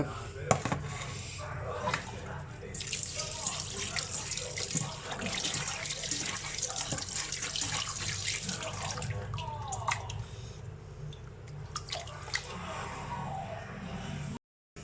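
Tap water runs steadily into a sink while raw chicken is washed, with a constant close splashing and the occasional knock, continuing almost until the end.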